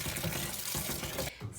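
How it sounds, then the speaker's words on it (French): A kitchen tap runs steadily while dandelions are rinsed under it, a close, continuous splash of water that shifts slightly as the flow hits the greens. "Je rince aussi mes pissenlits"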